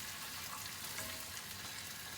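Sautéed potatoes with balsamic vinegar cooking down in a pan give a faint, even, hissing sizzle that holds steady throughout with no other sounds.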